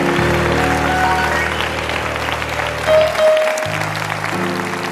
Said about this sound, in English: give him a hand clap of praise tonight